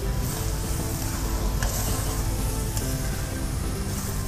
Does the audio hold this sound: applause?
no